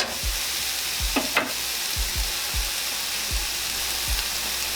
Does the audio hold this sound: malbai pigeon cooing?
no